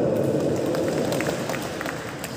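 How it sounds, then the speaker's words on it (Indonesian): Applause from guests at a gala dinner in the historic Gedung Sate hall in West Java, a dense roomy wash of clapping that stays loud throughout and thins slightly toward the end, with no voices. "Berikan tepuk tangan untuk kita semua."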